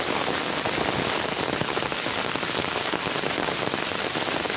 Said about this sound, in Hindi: ये देखिए इतनी ज़ोर की बारिश हो रही है, बहुत ज़ोर की बारिश है